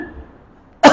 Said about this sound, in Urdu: بار بار کھانسنے سے بھی